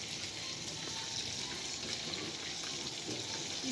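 Water runs steadily from a kitchen tap as sweet pepper, onion, purple onion, carrot, scallion and thyme are washed, a continuous close splashing hiss with no talk.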